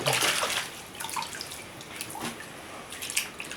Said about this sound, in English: And then just rinse off, rinse through.